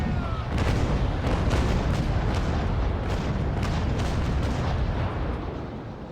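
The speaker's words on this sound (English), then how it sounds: "I'm going to fire the guns." Broadside of ship cannons firing in the Naval Action naval combat game, a rapid rolling barrage of heavy booms that blur into one loud continuous roar before easing off at the end.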